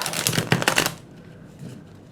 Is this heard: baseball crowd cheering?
no